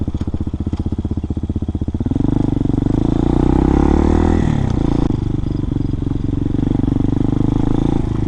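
A 2019 RPS Hawk DLX 250 motorcycle rides steadily with a loud, close engine drone, a pulsing idle-like chug giving way to sustained higher revs, with a brief shift in pitch midway and no talk.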